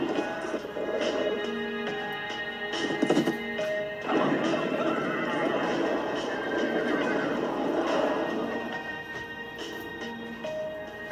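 Racehorses whinny loudly several times while hooves clip-clop on a hard surface, with a clatter partway through and steady trotting beneath the calls.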